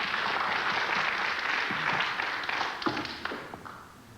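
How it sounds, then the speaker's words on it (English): A casino crowd at Casino de Deauville applauds a snooker shot, a dense, steady burst of clapping that tapers off over a few seconds. "That shot appreciated by the crowd here at the Casino de Deauville"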